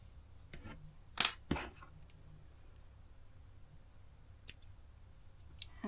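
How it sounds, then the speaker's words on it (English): Scissors snip the end of crochet yarn: a couple of crisp, close cuts in quick succession, followed later by a lighter single click against a quiet background. "And snip your starting one off"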